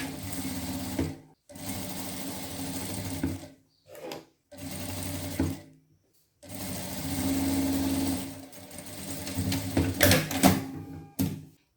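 Domestic sewing machine stitching the neckline seam of a trapeze dress, running in steady whirring bursts of one to three seconds separated by short pauses, close and clear with no talking.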